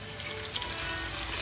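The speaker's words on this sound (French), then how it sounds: "La poêle est déjà chaude. Je mets les oignons." Onions frying in an already hot pan give a steady, dense sizzle that stays close and fairly loud throughout, with no voices.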